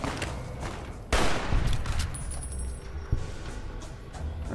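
Gunfire in the video game Fallout: New Vegas: a sudden loud shot or burst is followed by a noisy, rumbling battle background with a further crack later, while a high tone briefly rings out.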